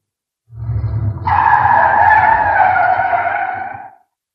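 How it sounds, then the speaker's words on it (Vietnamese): A car engine approaches and then a long, loud tire screech as the car rushes in and skids to a stop, used as a sound effect in a narrated ghost story, with no talking. "bất ngờ một chiếc ô tô lại lao đến"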